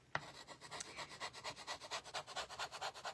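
A board eraser rubs chalk off a craft surface being reused for a new design, making a steady run of rhythmic scrubbing strokes, close and fairly quiet, with no talking.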